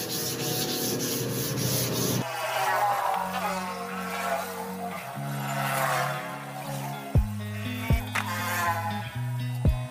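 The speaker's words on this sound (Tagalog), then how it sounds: "lilihain natin ito gamit yung 400 grit na papel de liha" Steady abrasive rubbing of 400-grit sandpaper against a painted surface before clear top coat, continuous and close, with a few sharp knocks and clicks near the end.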